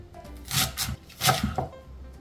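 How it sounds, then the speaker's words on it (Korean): A knife chops garlic chives on a cutting board for kimchi, giving about four or five quick, close thuds in an uneven rhythm with no talking. "반으로 이렇게 잘라서 먹기 좋은 크기 한 5cm 정도"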